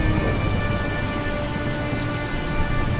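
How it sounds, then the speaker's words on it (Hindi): Heavy rain pours down steadily in a thunderstorm, a dense, loud hiss of drops on surfaces with low thunder rumbling underneath throughout, no voices. "तेज बारिश शुरू हो जाती है।"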